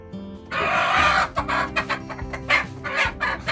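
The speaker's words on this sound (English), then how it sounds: "I hear the chickens" Roosting meat chickens cluck and squawk up close in a busy burst, with overlapping calls rising and falling over a few seconds.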